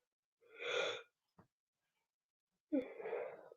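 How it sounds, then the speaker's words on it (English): A person yawns twice, each a long, open, breathy exhalation with a faint vocal tone, separated by a short sharp click and a pause of silence; close and alone. "I keep yawning."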